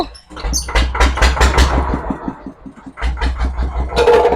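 A small ride-on mini tractor's engine cranks and catches, then runs with a loud, steady low chug and rising revs close by, while voices call out over it.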